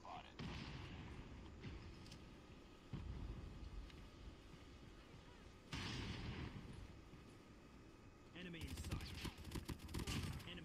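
Gunfire in a first-person shooter match on a bomb-defend objective, with bursts and sustained volleys of rifle shots at moderate distance, broken by short pauses and ending in a denser crackling flurry.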